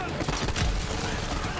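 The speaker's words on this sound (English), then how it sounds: "Oh my god, these shotguns, dude!" Shotgun blasts in the Borderlands 3 shooter, several heavy close booming shots fired in quick succession, loud and dense.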